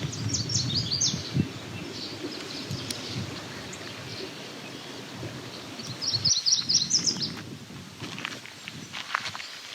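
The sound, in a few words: eastern meadowlark singing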